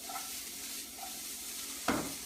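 Steady sizzling of food frying in a hot pan, with a brief scrape of stirring near the end.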